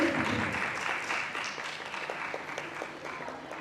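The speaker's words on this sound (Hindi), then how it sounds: "जोरदार तालियों से स्वागत करें।" Applause welcoming guests after the lamp lighting at a Bhopal cultural society ballet program, a sustained crowd clapping that gradually fades, with a voice briefly heard at the start.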